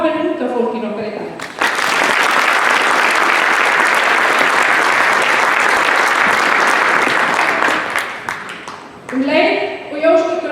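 Loud audience applause breaks out after a voice speaks at Keflavík's 90th anniversary celebration in Iceland, sustained clapping from a crowd for several seconds before fading as talking resumes.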